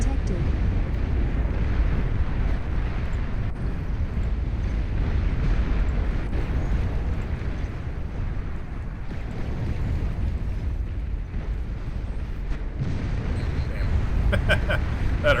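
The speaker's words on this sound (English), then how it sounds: "Nuclear missile launch detected." A nuclear missile launch and blast in a video game rumble as a continuous, loud low roar across the whole stretch, with game speech mixed in.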